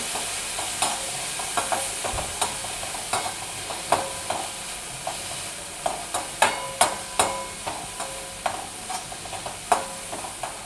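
Ginger, garlic and chili paste with turmeric and chili powder sautés in a pan with carrot, tomato and onion, a continuous close sizzle punctuated by regular sharp stirring clicks of a spoon against the pan.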